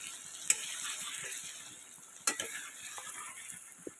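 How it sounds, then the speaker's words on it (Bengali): Meat being stir-fried (kosha) in a pan, with a faint steady sizzle broken by a few sharp scrapes and knocks of a stirring utensil. "আমার মাংস প্রায় কষানো হয়ে এসেছে"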